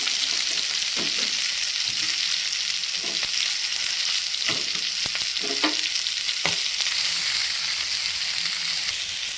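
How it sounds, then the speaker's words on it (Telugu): Tomato, red chili and onion frying in a little oil in a pan give off a loud, continuous close sizzle, with several low scraping and clattering knocks from stirring breaking through it and nobody speaking. "అదే ప్యాన్లో కొద్దిగా ఆయిల్ వేసి టమాటా పండు మిర్చిని వేయించుకున్నాము ఆనియన్ కూడా వేసేసుకున్నాము"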